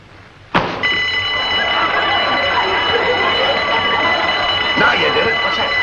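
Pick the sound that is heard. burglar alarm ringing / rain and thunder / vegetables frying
burglar alarm ringing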